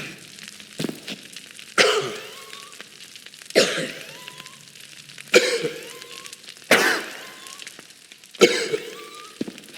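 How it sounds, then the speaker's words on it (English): In the video game Sir Whoopass: Immortal Death, a magic stick attack unleashes a slight cough: short throat-clearing coughs burst out roughly every one and a half seconds, up close and fairly loud, each trailing off into a quiet hiss. "release the destructive force of a slight cough"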